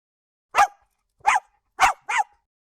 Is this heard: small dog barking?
yes